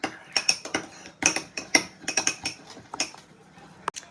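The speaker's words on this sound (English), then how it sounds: "And just mix everything so everything is all blended in." Utensil clinking and scraping against a bowl while Thai-style sauce is mixed, a run of sharp, close metallic taps and stirs that slows and thins out toward the end.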